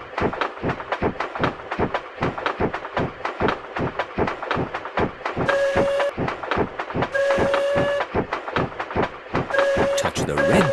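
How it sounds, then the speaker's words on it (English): A train in the Peppa Pig Theme Park video game rolls along with a steady, rapid clickety-clack rhythm and repeated short whistle toots, loud and close, with no talking over it. "Turn the wheel to make the train go faster."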